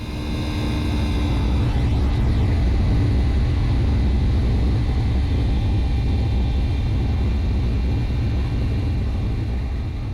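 An American Airlines airliner on its departure roll out of Miami, heard as a steady, loud, broad jet roar with deep low rumble that holds constant throughout, with no voices.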